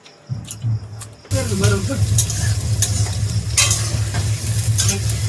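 Food frying and being stirred in a pan at a birthday party, steady loud sizzling with scraping stirs after a brief quieter start, people talking in the background.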